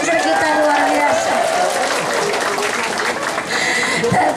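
An audience at a live outdoor stage show in Pamarican, Ciamis applauds for the Banser, with clapping and crowd noise mixed under loud talking and shouting voices throughout.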